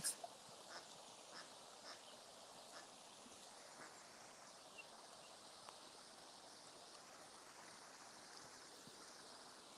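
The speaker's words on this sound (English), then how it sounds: "I can hear ducklings all over" Ducklings and their mother quack and peep faintly in scattered bursts along a small stream with little rapids, the water rushing steadily underneath throughout.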